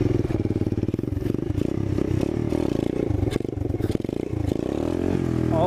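A 2019 Apollo 125cc motorcycle revs hard during a wheelie, its engine buzzing loudly in a rapid pulsing rhythm, close by, with the pitch bending near the end as the throttle changes.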